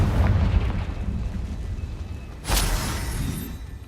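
A Confringo explosion spell from Hogwarts Legacy opens with a booming blast that decays over two seconds. A second sharp, bright burst follows midway and trails off into a low rumble.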